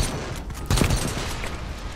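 Gunshots from a zombie survival video game set aboard a moving train crack out in a short burst midway through, fairly faint against a noisy background.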